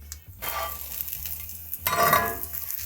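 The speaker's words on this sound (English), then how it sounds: "So now I'll just cook it for a minute or two on each side until we got browning" Cheese-stuffed bread frying in a lightly oiled pan, a soft steady sizzle with a louder surge of crackling partway through, close up, with no talking.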